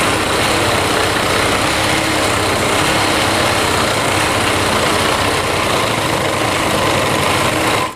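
Sewing machine stitching a heavily embellished Rajputi lehenga with a side presser foot, a loud continuous mechanical whir running close and unbroken throughout.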